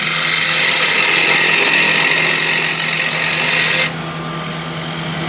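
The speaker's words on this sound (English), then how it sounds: "Back with the asymmetric curved scraper." An asymmetric curved scraper cuts a wooden bowl spinning on a lathe: a loud, steady motor hum with a continuous scraping rasp that drops away abruptly near the end, leaving the machine running quieter.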